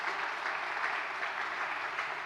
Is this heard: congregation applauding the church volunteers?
yes